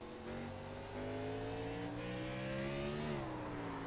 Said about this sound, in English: you can hear, listen to his throttle right here